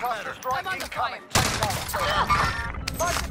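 Rapid gunfire bursts from the video game Warzone, loud and dense, follow a stretch of speech, with shots and impacts clustered tightly over the second half.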